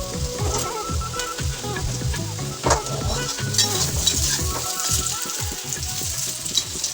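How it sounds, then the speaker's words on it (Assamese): Potatoes frying with spices and black salt in a pan, a steady dense sizzle with intermittent stirring scrapes, close and alone without talk. "আলুখিনি ধুনীয়াকৈ ফ্ৰাই কৰি ল'ব।"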